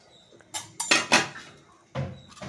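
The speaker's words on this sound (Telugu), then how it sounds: "ఇప్పుడు మరి సేమియాను బాగా కలుపుకుందాం." Vermicelli upma being stirred in a pan, giving a few sharp scrapes and clinks of a utensil against the metal, spaced irregularly and close by with quiet gaps between.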